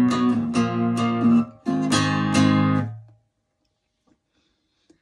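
Electric guitar strumming power chords in a down-down-up pattern for a song lesson, several loud sustained chord strokes for about three seconds before ringing out into silence.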